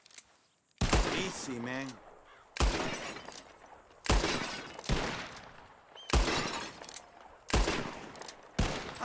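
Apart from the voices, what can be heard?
gunshots in a bottle-shooting contest in the video game Red Dead Redemption 2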